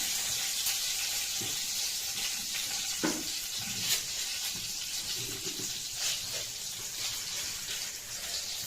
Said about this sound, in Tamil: எண்ணெய் சூடாகிட்டு கடுகு போடுறோம். கருவேப்பிலை,